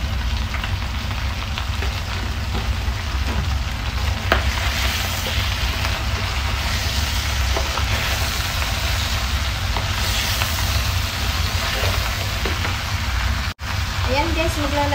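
Mixed vegetables with grouper fish stir-frying in a pan, a steady loud sizzle and crackle running throughout with occasional stirring scrapes, a brief gap near the end.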